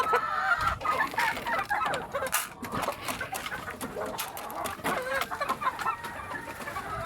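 Backyard chickens clucking busily at feeding time on a rainy day, a steady chorus of close clucks and calls with no talking.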